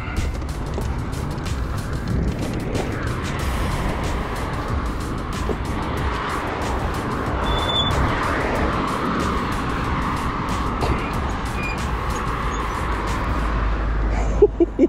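Steady broadband road roar of highway traffic while riding a pocket bike alongside the lanes, continuous and fairly loud throughout, with a few sharp knocks near the end.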